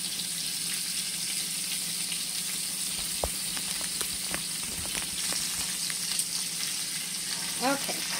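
Beef for caldo de res searing in a hot pan, a steady close sizzle and crackle throughout with a few faint clicks and a brief utensil scrape near the end.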